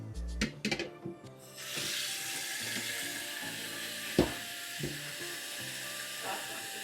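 Water runs into a bowl of raw chicken dressed with vinegar for washing, a steady hissing splash that begins after a few knocks and clinks and continues close by with occasional taps.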